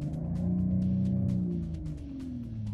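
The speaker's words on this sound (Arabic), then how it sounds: "خلونا نسمعكم صوت اللكزوز وانا داخل السياره كيف راح يكون" A Lexus in Sport Plus mode, heard from inside the cabin, gives a steady low engine drone. Its pitch swells and then eases over a few seconds, with no talking.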